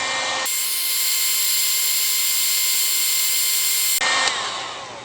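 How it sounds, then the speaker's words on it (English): A heat gun blows a steady, loud hiss while warming a piece of intake hose for a Honda 350 or 450 carburetor, starting abruptly and cutting off just before the end, with no talking. "What I'm going to do is heat this thing up with my heat gun."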